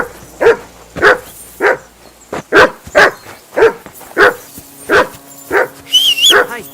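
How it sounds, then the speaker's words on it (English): Dog barking in the medieval video game Kingdom Come: Deliverance 2, a steady series of about ten loud, close barks evenly spaced, with a brief whine near the end. "I assume you can hear that damn dog of yours barking."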